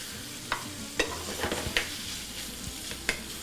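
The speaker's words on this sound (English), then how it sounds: "I should be stirring that bacon in the meantime" Maple bacon fries in a pan with a steady sizzle while a utensil stirs it, giving several sharp, close scrapes and knocks spread unevenly over the frying, with no voices.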